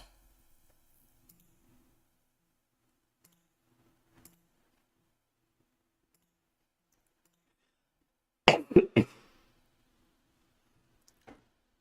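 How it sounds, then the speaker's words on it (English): Near silence broken by a short burst of two or three coughs close by, followed by a faint click. "It was just a cough"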